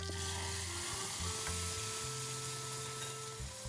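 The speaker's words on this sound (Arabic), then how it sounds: "وهنجيب حوالي معلقتين توم مفروم، وهنحمرهم" About two spoonfuls of minced garlic frying in hot oil for koshari, a loud steady sizzle filling the whole stretch, close up with no talking.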